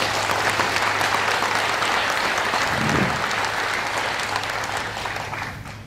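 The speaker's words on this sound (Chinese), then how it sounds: "掌声" Audience applause at a business leadership training seminar, a dense, steady clapping from a large crowd that holds loud for several seconds and then begins to fade slightly toward the end.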